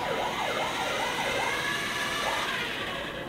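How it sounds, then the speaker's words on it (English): A toy car's siren wails, sweeping up and down in quick, even cycles, steady and fairly loud with no voices. "I can play the siren sounds."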